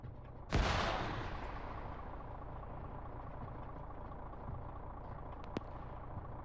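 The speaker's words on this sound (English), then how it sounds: "Skater Boy is able to use his marksman rifle to take out Big McSpanky." A single marksman rifle shot rings out during a PvP video game match, one sharp loud crack followed by a decaying tail over steady game ambience, with a faint second click later.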